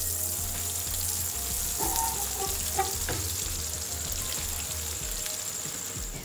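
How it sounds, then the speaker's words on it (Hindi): Bread rolls fry in hot oil in a pan, a steady, close sizzle with bright crackling that carries on evenly throughout, with a few soft clinks partway through. "पैन में ऑयल गर्म हो चुका है तो आप इनको पैन में डालते जाएं।"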